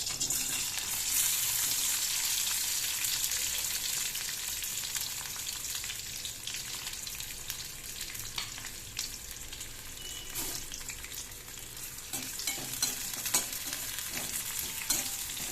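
Sliced onion sizzles steadily in hot oil in a pan over lowered gas heat, a dense continuous crackle with occasional stirring clicks and no talk.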